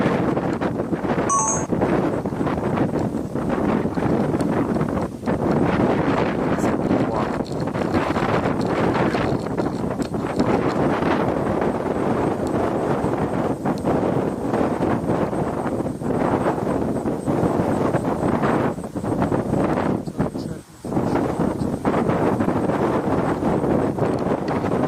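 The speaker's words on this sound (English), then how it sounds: "It's official, the wind hates us." Steady, loud wind buffeting a microphone outdoors, a continuous rumbling roar lasting throughout with only brief dips and no clear speech.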